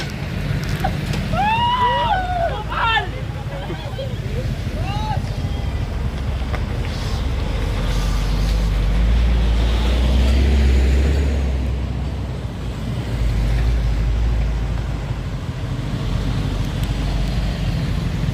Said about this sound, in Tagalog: Walang tigil pa rin yung mga sasakyan.